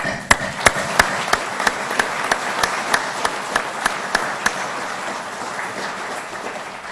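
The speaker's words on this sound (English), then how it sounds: "I just want to take a minute to give you a round of applause" A single person claps in a slow, even rhythm, about a dozen sharp distinct claps over a faint room murmur, trailing off toward the end.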